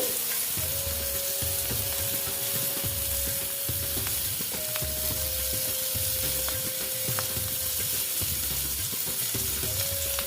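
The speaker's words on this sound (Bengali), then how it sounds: "এখন ভেজে নিচ্ছি" Cauliflower and potato pieces fry in a pan with a steady, close sizzle, broken by repeated soft stirring scrapes at a regular rhythm, with no talking.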